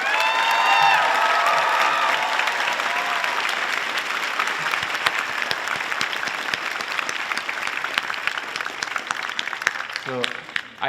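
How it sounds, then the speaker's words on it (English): Audience applause fills a university college commencement ceremony at UC Santa Cruz, a sustained dense wash of many hands clapping that stays loud throughout before beginning to thin near the end. "giving a round of applause for your family and friends"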